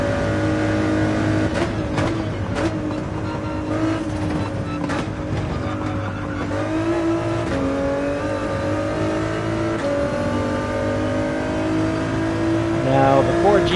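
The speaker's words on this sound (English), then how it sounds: "Can't believe that what this EcoBoost engine can do." A Ford GT with an EcoBoost engine races around Daytona in Gran Turismo 7, its engine droning and revving steadily with shifting pitch, loud and continuous for the whole stretch, with talk over it.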